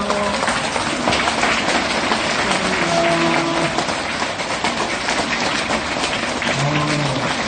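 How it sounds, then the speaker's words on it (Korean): An audience at a Buddhist ceremony applauds as flowers are presented. The clapping is dense and steady with a continuous rushing wash, while faint voices murmur beneath. "큰 박수 부탁드립니다."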